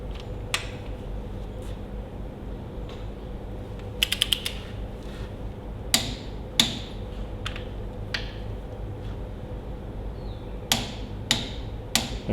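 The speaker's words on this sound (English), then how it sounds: "Right, so I've got the torque wrench set on 60 now" A torque wrench tightens cylinder head bolts on a Ferguson TEA20 tractor, giving sharp isolated clicks and ratcheting taps spaced irregularly over a steady low background hum, with a quick burst of clicks near the middle.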